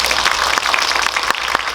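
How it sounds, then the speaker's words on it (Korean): An audience in a cinema auditorium, at a Korean film screening talk for 'Harbin' at CGV Yongsan, applauds in a dense, continuous patter of hand claps that fills the room. "박수 한번 보내주세요"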